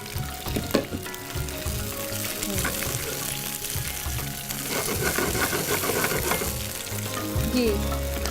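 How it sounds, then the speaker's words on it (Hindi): Fritters frying in hot oil make a steady, busy sizzle with bubbling crackle throughout, close and fairly loud, with occasional utensil clinks and no talking. "जब तक ये हमारे फ्राइटर्स फ्राई होंगे"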